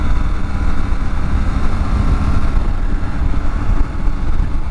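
A motorcycle engine runs loud and close throughout, a steady low rumble that rises and dips slightly as gears change without the clutch on a community ride.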